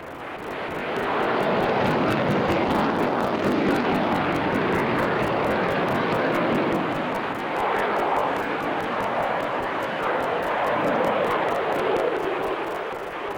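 A Eurofighter Typhoon jet flies a display at the Farnborough International airshow, its engines producing a loud, sustained roar that swells in within the first second and holds steady with slight surges, with no talking over it.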